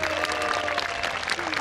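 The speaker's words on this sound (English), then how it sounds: "A round of applause for our jousters" Applause and crowd noise for jousters at a Tudor-themed joust with Henry VIII at a country house, a brief burst of outdoor clapping mixed with voices.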